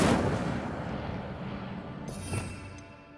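An Incendio fire spell cast in Hogwarts Legacy bursts with a sharp, loud whoosh, then settles into a rumbling roar that swells briefly once more before fading.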